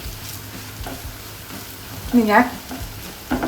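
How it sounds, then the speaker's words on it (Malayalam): Curry leaves sizzling and crackling in hot oil as they are stirred in a pan, a loud burst of frying hiss with a couple of spattering pops, while a person speaks briefly. "ഇനി ഇതിലോട്ട് ഒരു 2 തണ്ട് കറിവേപ്പില അതും ഇട്ട് കൊടുക്കേ"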